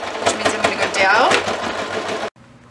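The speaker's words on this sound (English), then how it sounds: "I'm just gonna put it in my machine and I'm gonna sew a box stitch" Electric sewing machine stitching a box stitch on a child's fabric apron, a steady fast needle whir running loud and close for about two seconds before stopping abruptly.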